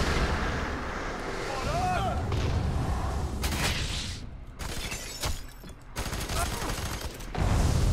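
Gunfire in the shooter F.E.A.R. 3, including a slow-motion shotgun, comes as heavy booming blasts and shattering bursts scattered through the clip, mixed with game effects and talking voices.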